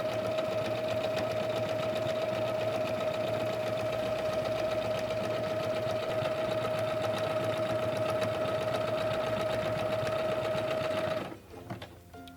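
A SINGER LEGACY C440 sewing machine stitches at a steady, even whir with a constant hum and rapid needle rhythm, running alone and loud until it stops abruptly near the end.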